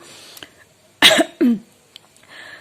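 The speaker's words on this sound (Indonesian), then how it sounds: "Sorry, batuk." Two harsh, close coughs in quick succession break an otherwise quiet moment, with faint rustling around them.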